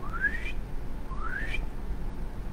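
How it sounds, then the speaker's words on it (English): Recorded dolphin whistles: two rising, upswept tonal calls, each about half a second long, separated by a short pause and heard alone over a steady low background hum. "The dolphin can whistle and click at the same time."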